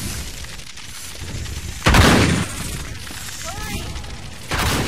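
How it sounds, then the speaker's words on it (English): A firefight in the video game Uncharted 3 rumbles as dense gunfire and a heavy blast around the two-second mark, with a voice calling out over the noise. "Keep shooting and follow me!"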